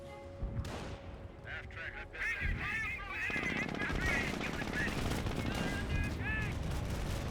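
Gunfire in the Company of Heroes video game: rapid machine-gun bursts rattle continuously under shouted unit voices and other battle sounds, loud and dense.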